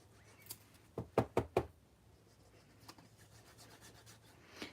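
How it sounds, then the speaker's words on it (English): Bone folder pressed and rubbed along a folded paper card, giving a few quiet taps and then a quick cluster of three or four sharp knocks, with faint rubbing afterward. "I'm just going to press this with my bone folder"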